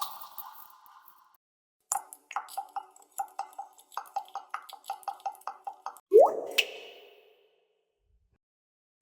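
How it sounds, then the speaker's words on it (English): Cartoonish water drip effect with reverb: a rhythmic series of bright plopping drips, each with a short echo tail, followed by a louder rising bloop near the end, then silence. "Water drip sound effect."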